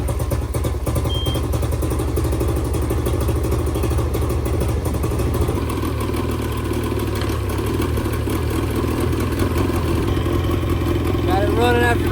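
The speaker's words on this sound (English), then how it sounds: "try and crank the boat up" A boat engine, cranked after sitting through winter on a battery charged only a couple of hours, runs with a continuous rough mechanical rumble and clatter throughout.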